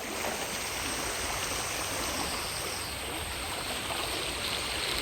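Floodwater surges strongly past village houses in a steady, loud, unbroken rush of churning water, with no voices over it.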